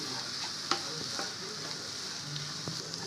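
Sugar melting with lentils and rice is stirred in a pan for ukkali, a spoon scraping and clicking against the metal in soft, irregular strokes over a steady low sizzle.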